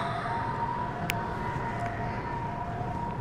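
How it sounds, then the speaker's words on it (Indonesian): A steady wailing ambulance siren sounds at moderate distance over a constant hum of street traffic, heard from a hotel on a holiday in Taiwan. "Tuh, ngek ngok, ambulan."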